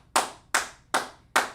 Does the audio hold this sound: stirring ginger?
no